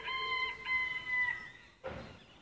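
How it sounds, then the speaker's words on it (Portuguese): A sura rooster crows among chickens, one long drawn-out crow close by, followed by a brief noisy cluck-like burst. "Olha um galo suro."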